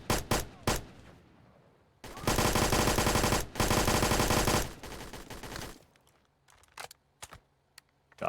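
Loud bursts of automatic gunfire from a gun in the Roblox shooter BRM5, with a few single shots, then a long sustained volley, then scattered quieter clicks and taps.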